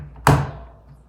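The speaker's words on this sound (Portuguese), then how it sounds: "você feche a porta" The door of an LG VC4 13 kg washer-dryer is pushed shut, giving one sharp, close thunk followed by a short fading resonance in a quiet room.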